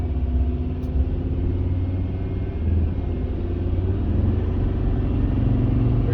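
A 1938 SS drophead car driving with its engine running, a steady low rumble and road roar throughout, continuous and fairly loud with no talk.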